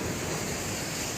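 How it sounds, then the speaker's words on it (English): Ocean waves wash onto a beach in a steady, broad roar of surf, fairly close and continuous, with some wind noise on the microphone and no voices. "waves are gonna hit up"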